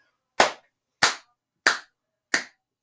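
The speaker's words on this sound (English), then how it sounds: "All right, let's clap." Four slow, evenly spaced claps from children at a school reading activity, each a sharp isolated smack with silence between.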